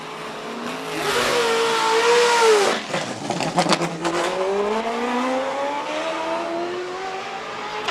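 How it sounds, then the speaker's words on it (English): A Nissan 350Z race car with a swapped LS V8 engine revs hard at the start line of a hillclimb in Cape Town, its pitch sweeping up and down in loud, close, sustained bursts of engine roar. "the Nissan 350Z powered by an LS V8"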